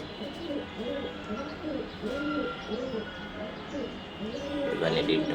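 Racing pigeons coo in a loft, a steady series of soft, low, rolling coos repeating close by against faint background hum.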